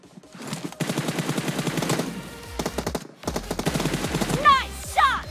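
Rapid bursts of automatic gunfire from a PUBG Mobile team deathmatch duel crackle in dense volleys, broken by a short pause before more shots and quick whooshing effects near the end.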